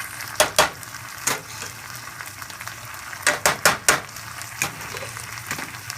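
A utensil scraping chicken lettuce wrap filling around a frying pan, a series of sharp scrapes and clinks in uneven bursts over a low steady sizzle, close and fairly quiet.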